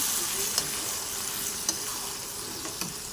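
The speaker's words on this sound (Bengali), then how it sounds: "এবার মাংসগুলো সব ঢেলে দেবো দিয়ে দিলাম ভালো করে কষাবো" Mutton pieces stir-fried in spice masala with fried potato and garlic sizzle softly and steadily, with a few faint scraping taps from the spoon and no talking.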